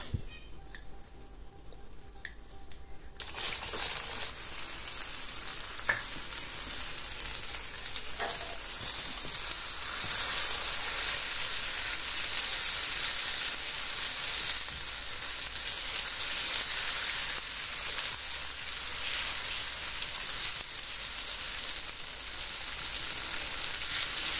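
Butter sizzles loudly in a pan while peanut nougatine is being made, the steady hiss rising suddenly after a short quiet start and holding strong and close to the end.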